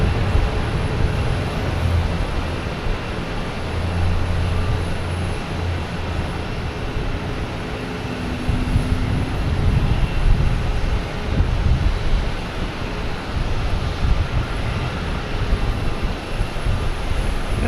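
A United airliner taxis at Boston Logan Airport, its engines giving a steady, loud rumble and whine that holds for the whole stretch, with no talking.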